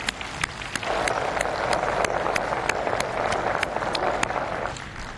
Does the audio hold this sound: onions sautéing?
no